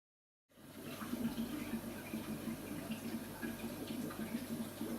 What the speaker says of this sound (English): So I've filled up this tank